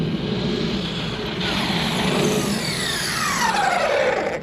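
The small electric motor of an R Snake V16 Pro RC car on a 6500mAh battery whines steadily at full speed, its pitch sliding downward near the end, with a broad rushing hum underneath and no voices.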